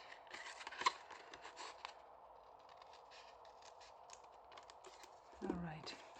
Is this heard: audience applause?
no